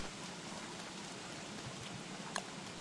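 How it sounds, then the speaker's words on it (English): Rain falling in Don't Starve Together during springtime, a faint steady hiss of drops with a few soft patters and one brief tick, no voices. "You can't get bees and it rains 24/7."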